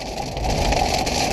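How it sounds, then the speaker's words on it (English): Steady rain in Arizona, a dense even patter of drops filling the short stretch without a break, fairly close and moderately loud, with no voices. "It's raining here in Arizona"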